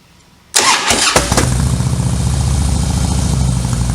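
A Harley-Davidson motorcycle engine cranks and fires after half a second of quiet, catching with a loud burst and settling into a close, loud, lumpy idle that holds steady.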